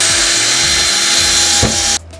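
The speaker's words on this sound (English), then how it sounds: "So now I'm just going to drill that hole out." A small handheld drill bores a hole through a 3D-printed part for a prop lightsaber, making a steady high whine that runs continuously for about two seconds, then drops off as the bit stops.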